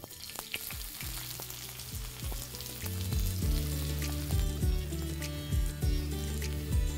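Onion and carrot tossed into hot oil in a pan, a steady sizzle with repeated metallic clanks of a spatula that grow louder and more regular as the stirring picks up.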